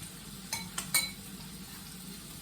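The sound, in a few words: mixing carbonara sauce with pepper in a bowl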